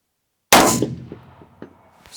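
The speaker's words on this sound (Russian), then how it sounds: "Слышу попадание. Попадание почти по центру гонга." A rifle shot at a 400 m range gives a sharp, loud crack from silence, followed by a decaying rumble and a few faint distant knocks, one likely the bullet striking a steel gong target.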